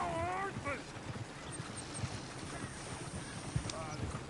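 Horse hooves clip-clop in Red Dead Redemption 2, a steady rhythmic trot at moderate distance under ambient outdoor game sound, with a brief whinny-like tone and voices near the start.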